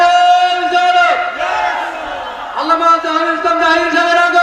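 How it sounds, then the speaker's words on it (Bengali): A crowd at a Bengali religious sermon shouts the takbir, 'Allahu Akbar', in loud sustained unison, with a brief dip before the chant swells again. "একবার জবান করে বলা যাবে কি আল্লাহু আকবার। দেন দেন তাকবীর দেন"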